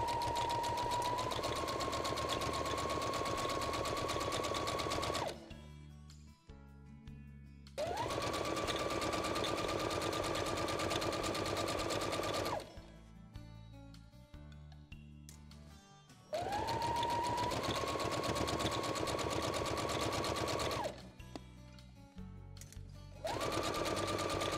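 Sewing machine stitching a straight seam on a fabric table runner: three long, steady, loud whirring runs, each starting with a quick speed ramp and separated by brief pauses.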